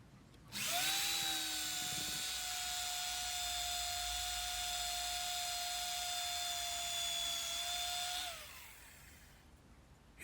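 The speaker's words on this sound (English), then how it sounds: "I can actually get the router on, and then start clearing the wood away." A wood router cuts away wood, whining steadily and loudly for about eight seconds at one even pitch before spinning down, with no talking.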